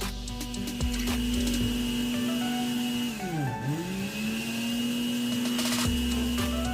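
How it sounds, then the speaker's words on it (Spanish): A kitchen blender motor whirs steadily while blending tomato, onion, water, salt and beef bouillon cubes for a salsa. Its pitch dips briefly midway and then climbs back to a constant hum, heard up close with no talk. "y vamos a licuar"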